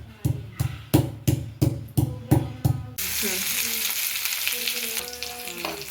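Cumin, ajwain and green chilies hit hot oil for a vada pav filling: a run of steady stirring knocks, then a loud, continuous close-up sizzle of frying.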